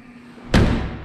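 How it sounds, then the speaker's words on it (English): The door of a Peterbilt 352 truck is slammed hard to make it latch, giving one loud, close thud midway, then a short fading ring against a quiet background. "If I slam the hell out of it, I can get it to latch"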